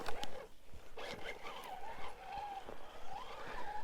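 A Traxxas TRX4 RC truck drives over a course outdoors, its electric motor whining and rising and falling in pitch, with crunching and scuffing from the tires.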